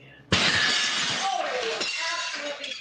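Glass shatters loudly inside a coffee shop in Oregon, a sudden crash followed by a long spray of tinkling shards, with voices and commotion continuing underneath.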